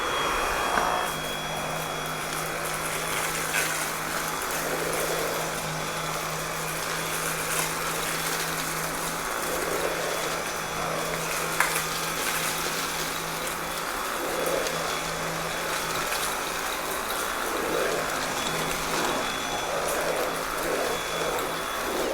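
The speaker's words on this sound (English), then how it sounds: "Next up, we're gonna be testing out the Dyson V8." A Dyson V8 cordless vacuum cleans carpet with a loud, steady high-pitched whine and rushing airflow, its pitch dipping and swelling slightly as it sweeps back and forth.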